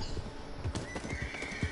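A horse in the Red Dead Redemption 2 online video game whinnies clearly while its hooves clip-clop underneath, a short, fairly quiet neigh in a game scene with no talking.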